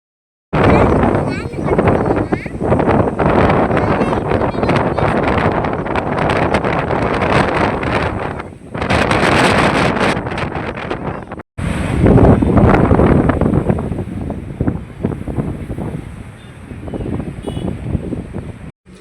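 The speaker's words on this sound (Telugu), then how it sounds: "ఒకసారి వినండి వాటర్ సౌండ్ ఎలా వస్తుందో" Forceful water plunging at Ethipothala waterfall near Nagarjunasagar makes a loud, steady, broadband roar close by, with brief dips in level partway through and what may be wind buffeting the microphone.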